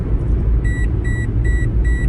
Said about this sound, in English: you've probably heard some beeping from the car